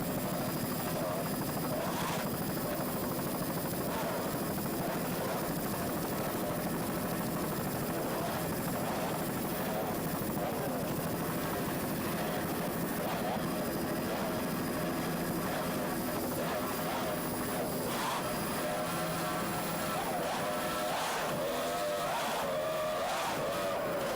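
Loud, continuous roar of a powerboat's three 2.5 EFI outboard engines running hard in a 1993 race, with a steady droning buzz and occasional surges throughout.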